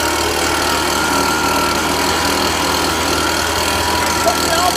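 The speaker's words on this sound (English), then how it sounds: "you're going to grab the blower, blow the whole bed out" Motorized leaf blower blasting debris out of a landscaped shrub bed, a loud, continuous engine roar and rushing air close by.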